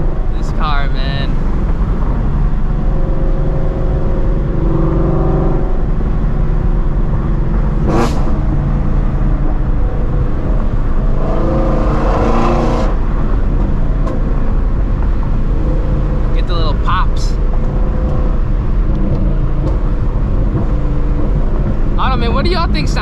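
A Shelby GT350 Mustang engine drones loudly and continuously while driving, with revs rising and falling through gear changes and a brief surge in the middle, heard from inside the car.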